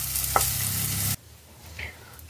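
Paneer cubes frying in hot oil in a kadhai give a loud, steady sizzle that abruptly drops to a quieter crackle midway, as if the pieces are lifted out.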